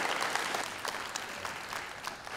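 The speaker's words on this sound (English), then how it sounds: "we should clap for that." A church congregation applauds with dense, steady clapping from a crowd that carries through the whole moment.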